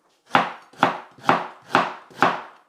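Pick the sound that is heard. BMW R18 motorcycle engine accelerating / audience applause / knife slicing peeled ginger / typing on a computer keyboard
knife slicing peeled ginger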